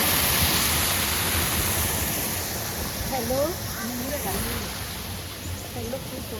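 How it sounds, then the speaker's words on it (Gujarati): A steady, loud rush of falling water from a waterfall at Mansarovar fills the air, a broad constant roar with a voice speaking briefly over it. "અહીંયા જો મસ્ત ધોધ"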